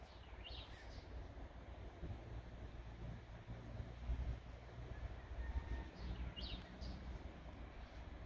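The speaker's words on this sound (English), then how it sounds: "Some wind blowing here." Outdoor wind buffeting the microphone, a constant low rumbling roar with gusts swelling and easing, faint bird chirps now and then over it.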